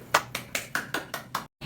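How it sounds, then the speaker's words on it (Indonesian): A classroom of students claps for a classmate, seven short sharp bursts of applause about a quarter second apart, close and fairly even, then breaking off briefly before one more clap. "Mari kita beri tepuk tangan untuk Mbak Tantri."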